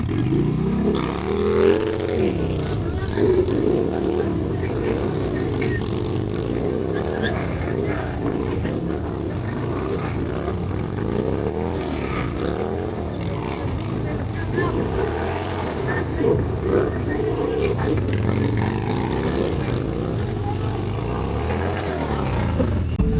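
Harley-Davidson motorcycles rev hard at a drag race in Daytona, their engines roaring and climbing in pitch. The noise is loud and continuous, with voices faintly audible beneath the engines.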